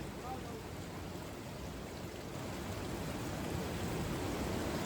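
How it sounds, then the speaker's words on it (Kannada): Faint, steady rushing of water flowing in a stream in the Western Ghats near Shivaganga falls, Uttara Kannada, a soft continuous hiss heard from a short distance. "ಇಲ್ಲಿ ನೋಡಿ ಈಗೂ ಕೂಡ ನೀರು ಹರಿತಾ ಇದೆ"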